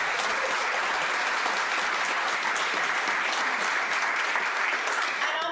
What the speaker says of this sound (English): Sean, another round of applause for Sean.